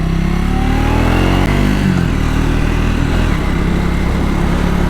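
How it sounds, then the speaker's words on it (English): A Triumph Speed 400 motorcycle's engine drones loudly from up close while riding, holding a steady mid-pitched hum with a brief shift in tone partway through; no one speaks over it. "at these speeds the engine feels properly powerful"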